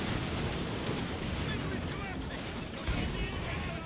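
Katyusha rocket artillery firing in Company of Heroes 2, a dense, continuous rumble of launches and explosions filling the whole stretch, with a commentator's voice over the top.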